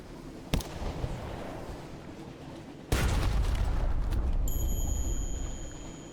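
A ship's deck weapon fires in the Sunless Sea video game, two sharp blasts about two seconds apart over a low rumbling ambience, followed by a thin electronic tone.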